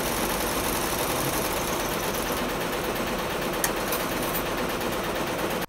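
A six-head embroidery machine runs steadily at close range, giving a continuous, even mechanical whir with a faint rattle throughout and no voices.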